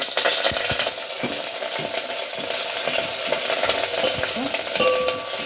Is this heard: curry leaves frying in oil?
yes